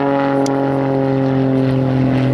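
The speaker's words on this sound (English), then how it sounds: "So Hannes is now kind of helicoptering that aeroplane." An Extra aerobatic propeller plane hanging nearly motionless at the top of a climb during an air show, its engine and propeller producing a loud, steady droning hum with strong sustained tones.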